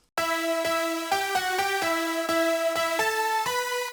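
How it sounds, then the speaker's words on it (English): A bright, buzzy progressive house synth lead with no effects plays a melodic phrase of short repeated notes, dry and up close, with no other sounds. "The lead without the effects would sound like this."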